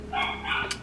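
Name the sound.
puppies barking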